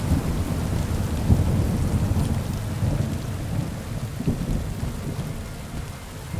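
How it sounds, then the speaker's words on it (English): Heavy rain and rumbling thunder from the medieval Kingdom Come: Deliverance II video game, a dense, continuous loud downpour with low rolling thunder throughout and no speech. "Come on, Rain, go away."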